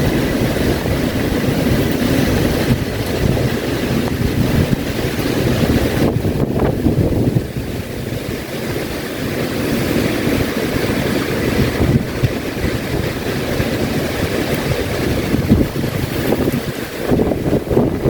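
Strong typhoon wind from Typhoon Ragasa blows through Hong Kong, a loud, continuous roaring rush with gusty surges and buffeting against the microphone, sustained without pause throughout.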